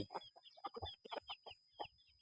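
Fighting-breed chickens kept at a rural home farm cluck in a quick series of short, close calls, several birds overlapping in bursts with brief pauses between.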